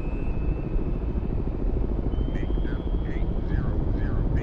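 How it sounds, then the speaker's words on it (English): Helicopter rotor chop in the submarine game Cold Waters, heard as a steady, fairly loud rhythmic thudding drone that holds through the whole moment alongside other game sounds. "And that's a helo."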